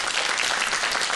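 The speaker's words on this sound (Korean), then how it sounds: "여러분 박수 한번 부탁드리겠습니다" A lecture audience applauds the speaker steadily, dense overlapping clapping at an even, fairly loud level throughout, with no voices rising above it.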